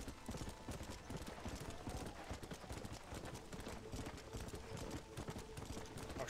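Horse hooves galloping in the Red Dead Redemption video game, a rapid continuous drumming clatter with faint game ambience, steady and moderately quiet throughout, no talking.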